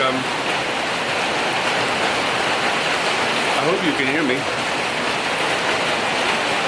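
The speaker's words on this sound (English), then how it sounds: "because it's pouring down with rain" Heavy rain pours down in a loud, steady hiss throughout, while a person speaks briefly over the downpour.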